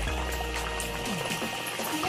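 Chicken samosas slide gently into hot frying oil over a lowered gas flame, giving a steady, loud, continuous sizzle and bubbling from close by.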